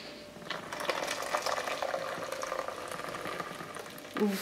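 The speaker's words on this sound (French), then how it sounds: "Je vais mettre 500 ml d'eau chaude." About 500 ml of hot water poured into a container while making homemade frozen yogurt, a steady close splashing and gurgling pour lasting a few seconds, ending with a brief clunk.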